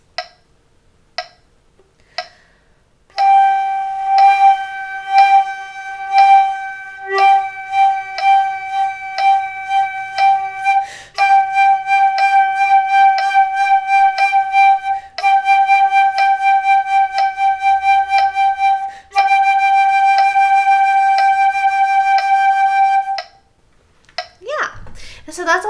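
Flute playing a sustained note with vibrato that speeds up in stages from slow pulses to a fast shimmer, clear and close, after a few short isolated taps, with brief pauses between the sections.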